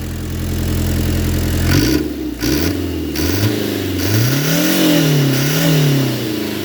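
A Peugeot 205 TD with a fully forged, built engine revs hard, starting from a steady idle drone and then climbing and falling in repeated surges. The engine is loud and close.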